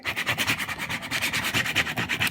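Sticky vinyl is burnished by rubbing hard with a tool, a brisk close scraping that repeats in quick, even back-and-forth strokes, about several per second, with no voices.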